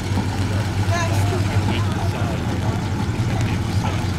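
A WWII-era high-speed tractor strains its engine as it takes up tension on a tow cable in mud at a military vehicle encampment, giving a low, steady rumble under nearby talk.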